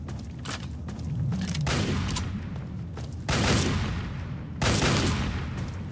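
Minigun fire in the video game Fallout 3, loud bursts of rapid gunfire arriving in several waves with booming impacts between them; no talking.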